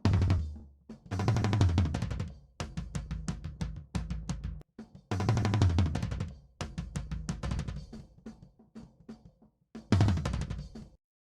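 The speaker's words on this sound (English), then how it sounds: "And then we have the toms," Isolated tom tracks from a crust punk mix: rapid, heavy tom rolls and fills in bursts, deep resonant hits played alone with short gaps between phrases.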